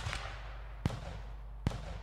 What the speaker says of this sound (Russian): Еще один выстрел.